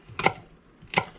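A knife chops bok choy on a chopping board, two crisp, close blows about three quarters of a second apart, with no talk.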